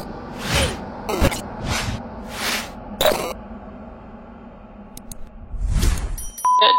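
A notification bell sound effect plays: a run of quick swishing bursts and bright metallic dings, separated by short gaps, loud and clear over near silence.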